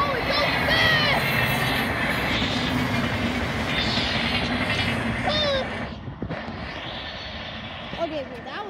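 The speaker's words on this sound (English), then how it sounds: "Yeah, that's a MARTA train." A MARTA rapid-transit train rushes past, a loud rumbling roar with squealing wheel tones that fades off toward the end.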